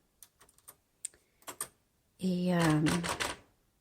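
Keys strike on a 1966 Smith Corona Classic 12 manual typewriter, a handful of sharp separate clacks close by, then a voice speaks briefly over the last few strikes.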